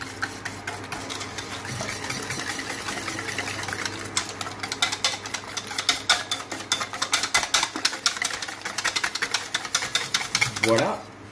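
Eggs and sugar being mixed together for a lemon tart, a steady whirring rhythmic beating that grows choppier and more clattering toward the end.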